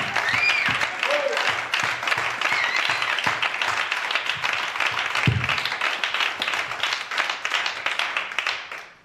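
A church congregation breaks into applause, a dense wash of many hands clapping at once that tapers off toward the end, with voices mixed in.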